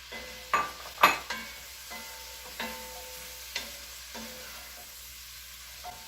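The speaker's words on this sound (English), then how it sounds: "So just toss the apples." Apples tossed in bacon fat and sugar in a pan for German red cabbage, with several distinct clattering scrapes of the spoon over a low sizzle, close and without talk.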